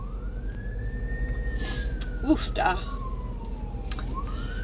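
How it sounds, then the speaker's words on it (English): An emergency vehicle siren passes outside, a clear wailing tone rising and falling at moderate distance, with a person's brief exclamations and muffled room noise underneath. "Sorry, there's a siren going by."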